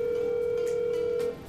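Steady telephone dial tone heard on a phone handset before a prank call, a continuous close tone that cuts off near the end.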